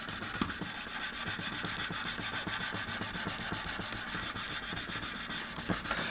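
Steady, even rasping of sandpaper smoothing the plastic fuselage of a 1/72 Airfix B-17G model, a close, continuous scratchy rub with a fine rhythmic stroke and no voice.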